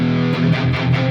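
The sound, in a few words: electric guitar with distortion at full gain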